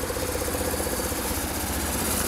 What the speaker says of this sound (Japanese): エンジンの始動もいいです。